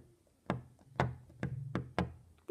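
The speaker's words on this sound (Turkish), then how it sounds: "Bir yere vurma sesi." Five sharp knocks strike something hard in an uneven rhythm, each a crisp, close hit with a short decay, ending as another sound begins.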